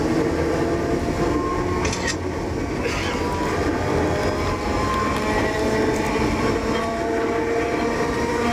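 An Enoden 1000 series train running on rails near a level crossing on the Enoshima to Kamakura-Koko-mae line, a steady close rumble with faint rail clatter and a brief high squeal partway through.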